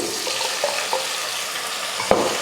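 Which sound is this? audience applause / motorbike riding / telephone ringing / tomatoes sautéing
tomatoes sautéing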